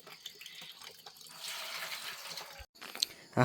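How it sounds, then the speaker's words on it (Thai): Running tap water splashes steadily into a sink as cups and spoons are washed, with clinks of dishware in a rural kitchen, the flow continuous and close, then a short break and a few louder knocks at the end. "ล้างถ้วยล้างบ่วง"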